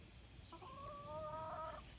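Rhode Island Red chickens give a single drawn-out, faint cluck-call in the middle, heard alone over quiet outdoor background.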